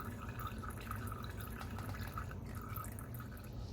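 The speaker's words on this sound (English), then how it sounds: "just to get that excess oil to go ahead and continue draining" Engine oil dripping and trickling as it drains from a leaned-over Kawasaki KX450F dirt bike during an oil change, a steady soft patter of drops against continuous low background noise, no talking.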